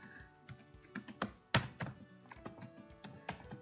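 Keys clatter on a computer keyboard as someone types out a PostgreSQL function body, in an irregular run of close, crisp taps with a few heavier thunks mixed in.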